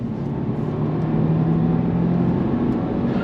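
A 2024 Subaru WRX TR pulls hard in second gear, a steady loud engine drone with a low exhaust tone that holds for the whole stretch, close up from inside the car.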